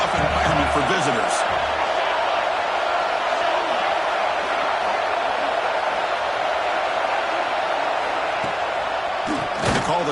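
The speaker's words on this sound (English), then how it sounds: "Listen to the crowd energy here in the early going." A steady, roaring stadium crowd in a college football video game, loud and unbroken throughout, with a few sharp slams and thuds near the start and end.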